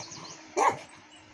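A small dog gives a single sharp bark close by, a short burst rising out of a quiet room and then falling back to low background.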